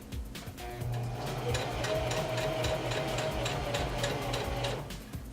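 Sewing machine stitching a dress, its needle running in a steady rapid mechanical patter with a low motor hum, close and continuous for several seconds without talk.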